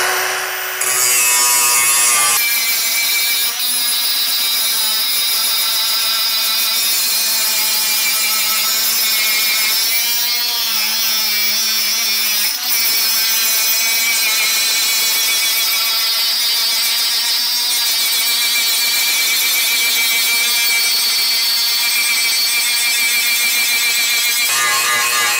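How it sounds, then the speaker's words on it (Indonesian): A Dongcheng DCMS03-100 battery angle grinder grinds down a weld, with a loud, steady high-pitched whine and gritty abrasive hiss that runs continuously, briefly shifting in pitch partway through. "sekarang hasil pengelasan ini akan kita gerinda ya"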